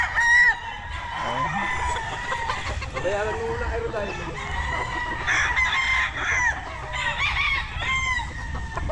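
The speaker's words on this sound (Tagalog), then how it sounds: "Daming manok." Many chickens on a tidy backyard farm in Ibaan, Batangas cluck steadily throughout while roosters crow repeatedly in the near distance, with people talking over the flock.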